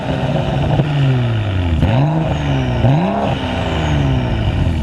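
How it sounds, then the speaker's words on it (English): A 2013 BMW 535i fitted with an aftermarket exhaust pulls through rising and falling revs with gear changes, a steady loud engine drone close by, and a faint turbo whistle sits above it. "This owner actually has the Denon exhaust system in the back, so that sounds pretty good. You get some turbo whistle."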